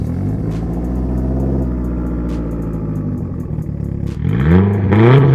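A built Mitsubishi Lancer Evo X with a turbo engine accelerating, heard from inside the car as a loud, rising engine drone that surges hard near the end, with no talk over it.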